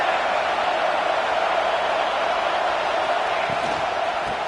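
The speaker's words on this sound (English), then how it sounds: "This crowd bringing the energy and noise early." A large football stadium crowd roars steadily at a Texas vs Penn State game, a dense wash of cheering and noise that holds level without breaks.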